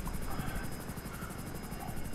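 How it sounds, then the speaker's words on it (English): Helicopter in the video game GTA 5, a Hunter attack chopper whose rotor thuds in a fast, steady pulse over a loud engine whine, constant and close throughout. "We gotta push this chopper to its limits!"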